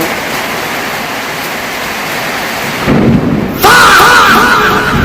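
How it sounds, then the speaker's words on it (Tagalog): A thunderstorm with lightning brings a loud, rolling thunder rumble over heavy rain, close and building, with a sharp louder crack near the end and no talking. "Oo, mga kidlat."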